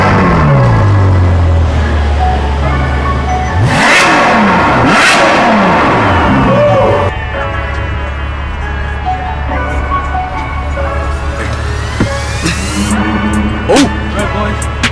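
A Ferrari 812 supercar engine revs loudly nearby, climbing and falling in rising and sliding pitch sweeps, with a sharp peak partway through before it settles into a lower, steadier drone.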